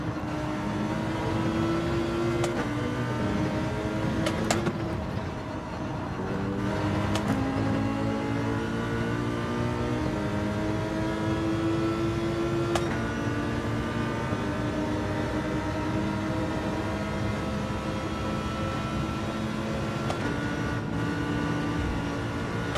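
Race cars from Gran Turismo 7 in an online daily race, a steady layered engine drone with shifting revving tones and gear changes, loud and continuous throughout with no talk.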